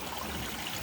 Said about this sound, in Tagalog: Kaya kailan tubig diri og agas kanunay.